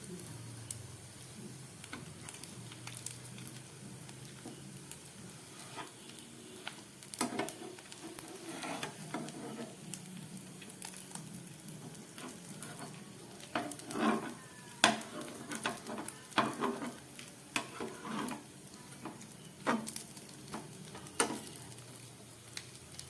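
Food frying gently in a pan over a low gas flame while being stirred, with a soft steady sizzle and scattered scraping and tapping clicks from the utensil against the pan, close and fairly quiet, no talking.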